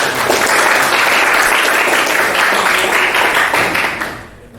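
A classroom of vocational engineering students applauds in a dense, loud burst of clapping that holds steady, then fades away at the end.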